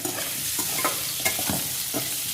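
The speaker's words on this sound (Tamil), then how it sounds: "இந்த பொட்டேட்டோ எல்லாத்தையும் நம்ம எண்ணெயிலேயே நல்லா வதக்கிக்கலாம்" Boiled baby potatoes frying in oil in a pan, a steady close sizzle with several soft scraping stirs of a spoon spread through it, no voices.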